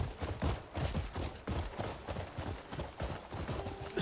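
Horse hooves clip-clop in a steady, brisk rhythm, fairly close, in the video game Crimson Desert, with game-like ambient noise and no talking.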